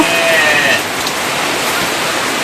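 Steady rain hiss pours down across the whole clip, dense and close, with a faint whistle-like tone fading early on.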